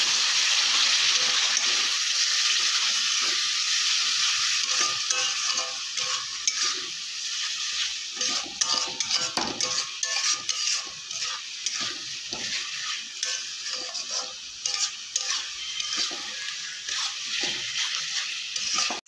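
Spices for aloo potol, including a little cumin powder with a splash of water, fry in a pan with a loud, continuous sizzle and hiss, while frequent spatula scrapes and stirring strokes grow more distinct in the second half.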